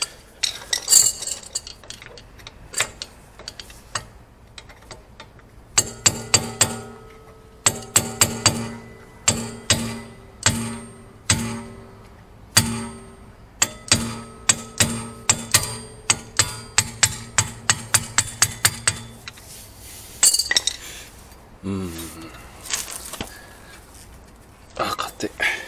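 Rear Brembo opposed-piston brake caliper pins are tapped out on a VAB-generation Subaru WRX STI. Repeated sharp metallic clinks and knocks come in rhythmic bursts, close and fairly loud, with brief pauses between runs.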